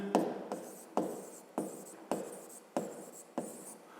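Pen writing out a fifth-grade math solution on paper, heard close up as a steady series of about seven scratchy strokes, each starting with a tap and fading into a light scrape, with no talk.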